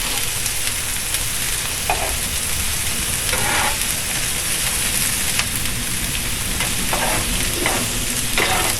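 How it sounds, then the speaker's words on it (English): Vegetables for a smoked salmon omelette sizzle on a hot griddle as a spatula stirs them, close and loud, with repeated scraping strokes breaking through the steady crackling fry. "I'm going to take my spatula and I'm going to mix it in well"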